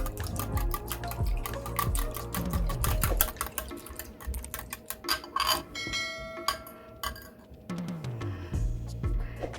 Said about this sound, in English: It still needs a bit more whisking.